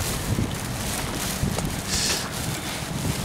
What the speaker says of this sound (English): Oh man, that wind is brutal.